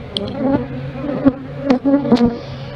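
Honeybees buzz close around an open frame from a 10-frame hive, several individual bees swelling and fading in quick overlapping passes.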